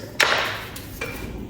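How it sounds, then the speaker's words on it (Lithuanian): Two sharp metallic hammer strikes about a second apart, the first louder with a ringing tail, over a low background hum, during engine repair on a 100-year-old Austin 7 car. "Plaktukas."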